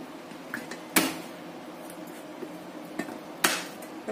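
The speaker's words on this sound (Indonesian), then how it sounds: "Kemudian saya akan cincang juga bawang putihnya." A knife chops three garlic cloves on a cutting board, giving a few sharp separate knocks with two loud ones, scattered lighter taps and a low background hum between them.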